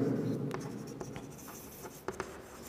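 Pen writing a definition by hand on paper, soft scratchy strokes and light taps under a man's continuous speech, closely miked.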